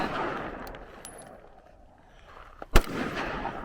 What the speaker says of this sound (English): It's finally good to get out here shooting.